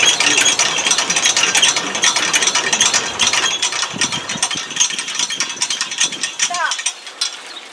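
A hydramatic test machine runs at about 180 RPM, giving a loud, steady mechanical whir with rapid ratcheting, gear-like clicking that continues throughout and thins out slightly near the end.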